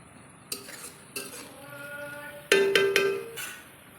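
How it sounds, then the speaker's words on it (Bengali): Onions frying in oil with bay leaves and cumin in a pan over a wood fire, with soft sizzling under several sharp metal clanks and scrapes of a spoon stirring against the pan. "পেঁয়াজটা আমার কিন্তু প্রায় ভাজা ভাজা হয়ে এসছে।"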